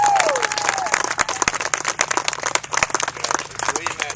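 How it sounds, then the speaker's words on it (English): Audience applause at a sculpture dedication in Brevard, North Carolina, a burst of clapping from a gathered crowd, close and irregular, with voices and cheering mixed in. "And I think Andy Guerra really deserves applause."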